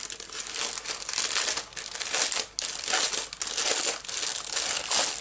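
Tissue paper from a craft order crinkles and rustles loudly and close up in bursts with brief pauses, as it is unwrapped and handled.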